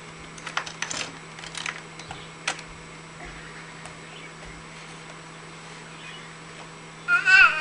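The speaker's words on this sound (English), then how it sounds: "This is an old keyboard, huh?" An old computer keyboard is typed on in short, irregular bursts of light clicks over a steady low hum, fairly faint and close, with a louder brief sound at the very end.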